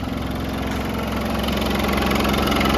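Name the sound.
Land Rover 110 200Tdi diesel engine starting up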